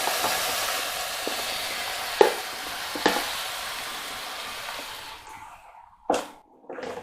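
Tomatoes go into a hot pan for tomato soup and set off a sizzle that holds steady. A couple of clinks from handling cut through it, then it cuts off sharply, leaving a brief clatter and a short burst near the end.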